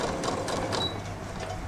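Sewing machine stitching fabric for a small pillow keychain, a steady close mechanical whir and rattle running throughout the short stretch.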